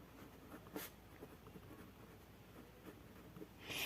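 Pen writing on paper, steady soft scratching strokes with small taps, close and quiet, no talk over it.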